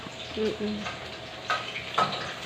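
Garlic frying in a home pan for Shanghai rolls gives a steady broadband sizzle, with a couple of sharper stirring scrapes near the end and a brief faint voice early on.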